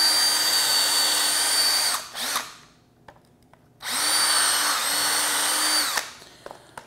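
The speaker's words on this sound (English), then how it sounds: "I'm going to go ahead and pre-drill some holes." A power drill bores pilot holes into pressure-treated lumber on a concrete slab: two steady high whining runs of about two and two seconds, separated by a quiet gap, each ending with a brief spin-down.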